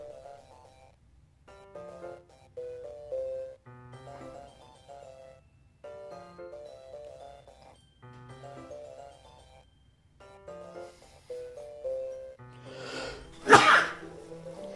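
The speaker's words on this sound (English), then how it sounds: "That was so surprising, it made me sneeze." A single sharp sneeze bursts out near the end, loud and close, after stretches of gentle game background music with bright melodic notes.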